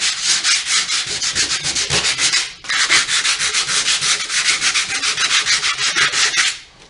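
Painted wooden Christmas welcome sign being hand sanded with 100-grit sandpaper, loud close rhythmic back-and-forth scratchy strokes in two bursts separated by a brief pause.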